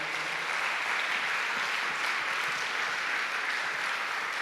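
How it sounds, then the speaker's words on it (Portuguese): A church congregation at a Sunday family service applauds, producing a continuous even wash of clapping from many hands without pause. "Você pode aplaudir a palavra do Eterno?"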